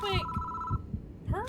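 Telephone ringing in the horror video game Spirit Hunter: Death Mark, a steady electronic ring tone broken off midway, with tense voices speaking over and around it.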